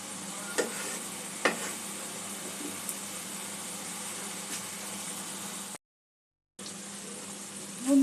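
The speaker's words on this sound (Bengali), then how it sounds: "গ্যাসের ফ্লেমটা আমি লো টু মিডিয়ামের মধ্যেই রেখেছি এখন, যাতে মশলাটা ভালো করে কষা হয়ে যায়।" Chickpea masala spices cooking in a pan over a low-to-medium gas flame, a steady soft sizzle with a few sharp stirring clinks, a brief gap of silence, then sizzling again.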